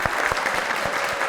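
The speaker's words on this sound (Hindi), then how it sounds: "तालियां हो जाएं" Studio audience applause at a comedy talk show, a dense, steady patter of many hands clapping close by with no voices over it, filling the short moment.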